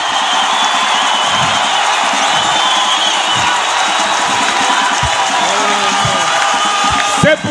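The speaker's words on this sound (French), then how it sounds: "Donne-lui la gloire. Donne-lui nos acclamations." A church congregation at Sunday worship cheers and acclaims loudly and continuously, a dense wash of crowd shouts and whoops with a few louder calls near the end.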